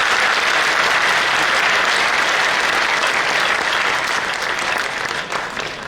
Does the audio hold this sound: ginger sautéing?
no